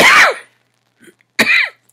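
A person coughs twice close to the microphone, two short harsh bursts separated by a pause, with a faint throaty sound between them.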